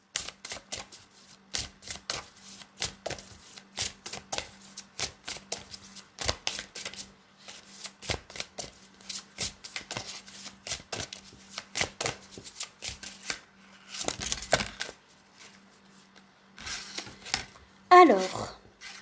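A deck of cards is shuffled for a card draw, crisp riffling clicks and slaps repeating in quick bursts up close, ending with a brief voice.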